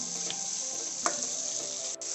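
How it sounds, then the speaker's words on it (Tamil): Tomatoes sizzle in a pan as the base for a Punjabi dhaba-style mutton gravy, a steady close hiss throughout with one or two brief clicks. "பாருங்க, தக்காளி நல்லா வதங்கிருச்சு."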